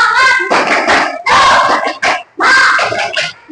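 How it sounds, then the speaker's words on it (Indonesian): Students in a classroom clap out the rhythmic tepuk semangat cheer together, loud bursts of group clapping in short patterned phrases with brief pauses between them. "kita tepuk semangat dulu"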